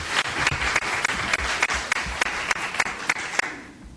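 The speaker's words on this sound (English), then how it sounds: "Let's have a round of applause for all of our candidates." A forum audience claps for school board candidates, with a steady round of applause and a few sharp individual claps standing out before it fades away near the end.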